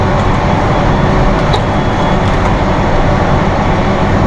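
A Massey Ferguson 6713 mid-range tractor engine drones loud and close as gears shift, a dense steady rumble with little variation and no speech.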